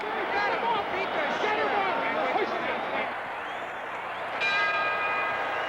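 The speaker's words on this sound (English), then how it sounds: "The bell for round 10 after an exciting, dramatic round 9." A boxing ring bell sounds between rounds nine and ten of the Muhammad Ali vs Oscar Bonavena bout, its ringing tone coming through a crowd's roar while a commentator talks.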